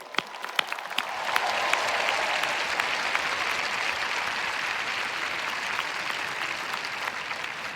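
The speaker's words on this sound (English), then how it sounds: "let's give the dads in particular a round of applause" Sustained audience applause fills an outdoor Stanford University commencement ceremony, a dense steady clatter of many hands clapping that swells within the first second and holds evenly at close range with no speech over it.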